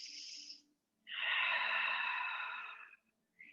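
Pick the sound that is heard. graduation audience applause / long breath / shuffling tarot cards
long breath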